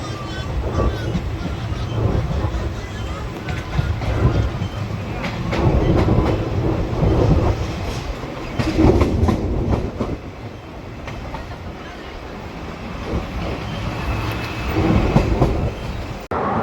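Sahebganj–Danapur Intercity Express rolling on rails as it nears Sultanganj, a steady, loud rumble of wheels and carriages with rhythmic clatter and faint surges throughout.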